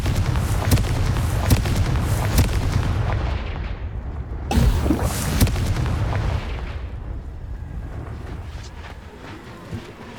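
A booming Confringo explosion spell from Hogwarts Legacy sets off a series of heavy blasts and crackling bursts, with another big detonation midway through before a long rumbling fade.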